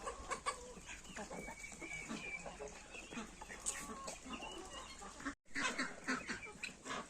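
Chickens, geese, ducks, turkeys, guinea fowl and muscovy ducks cluck and squawk continuously in a busy farmyard chorus, with overlapping calls near and far and a brief silent gap near the end.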